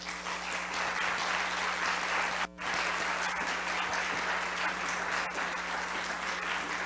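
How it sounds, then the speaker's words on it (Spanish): A theater audience at a TEDx event at UVP applauds in sustained, dense clapping that briefly dips then resumes and carries on evenly to the end, with no talk. "Fuerte el aplauso para Mauricio, por favor."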